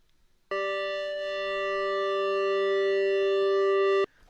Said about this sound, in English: this is a musical interval called a perfect fifth